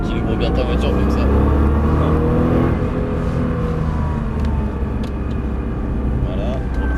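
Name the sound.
car engine accelerating on a race circuit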